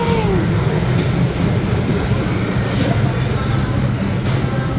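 The Wildlife Express train at Disney's Animal Kingdom rumbles in with a low, steady roar and faint squeals, with indistinct voices in the background.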